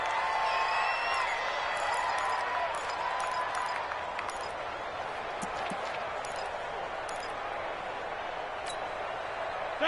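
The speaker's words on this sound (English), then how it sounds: "Listen to this crowd now." Video game crowd in a PS4 football game, a dense steady roar of a stadium audience at the end of a close game, with a commentator's voice layered over it throughout.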